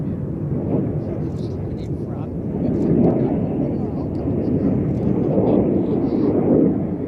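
Red Arrows Hawk T2 jets pass at an airshow, a loud continuous broadband roar that swells and fades over several seconds, heard alone without talk.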